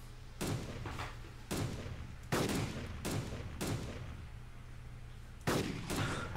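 Gunshots in the video game DayZ Epoch, a series of six sharp, booming single shots spaced irregularly over a low constant hum, with no talking.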